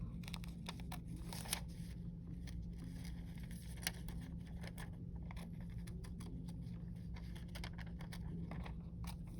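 Scissors snip around a paper picture being cut out for a collage, giving quiet, close, intermittent clicks and crinkles of paper over a low steady hum.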